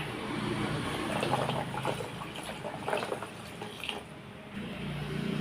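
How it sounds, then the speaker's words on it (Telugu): Water poured over butter and a few ice cubes in a bowl gives a steady, moderately loud splashing pour that lasts throughout with no speech. "నాలుగు ఐస్ క్రీప్స్ వేసుకొని వాటర్ పోయాలి"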